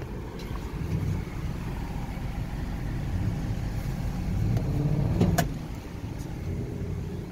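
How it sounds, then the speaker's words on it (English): A car's engine idling under the open hood, an automatic with about 113,000 miles, giving a steady, smooth low hum with faint ticks and a brief rise in level near the end. "Motor runs real good."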